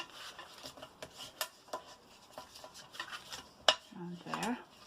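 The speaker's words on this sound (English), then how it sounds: "we'll just reinforce those score lines," A bone folder or similar burnisher rubs along score lines on a paper craft box, giving faint, close scraping strokes with a few light taps.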